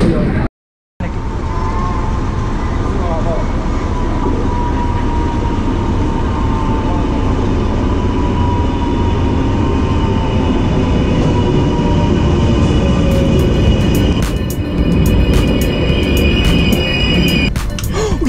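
A train rumbles steadily along the tracks near Pieksämäki, Finland, loud and close, with a continuous rolling roar and faint squeals and clicks toward the end.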